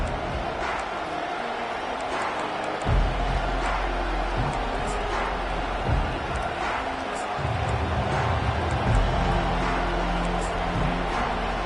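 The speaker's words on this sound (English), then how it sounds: "This crowd bringing the energy and noise early." A football stadium crowd roars steadily through the whole stretch, a broad wash of cheering and hubbub with louder surges partway through, heard from a distance under faint talk.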